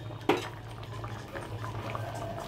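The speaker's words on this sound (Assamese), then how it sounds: "কচু চব্জি উতলি গৈছে" Taro curry simmering in a pot, a faint steady bubbling with a low hum beneath it and one sharp clink near the start.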